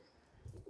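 Pigeons of the Bukhara breed coo softly in a short, low burst near the end, faint and close, with no talk over them.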